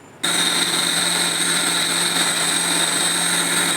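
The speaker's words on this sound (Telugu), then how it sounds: "చల్లారబెట్టుకొని మిక్సీకి పేస్ట్లా చేసుకోండి" A loud, steady electric whirring starts abruptly after a brief quiet moment and runs on without a break, a mixer grinder blending cooled ingredients into a paste.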